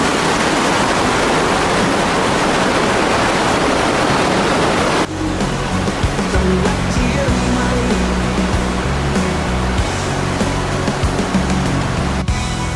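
Fast-flowing river water rushes loudly near a bridge in Fang, Chiang Mai, a dense steady roar for several seconds before cutting to a quieter, humming scene.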